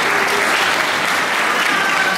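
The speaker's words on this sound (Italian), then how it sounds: "Non applaudite, non applaudite." Audience at a literary award ceremony applauding in a dense, even burst of clapping that holds steady for about two seconds with no pauses.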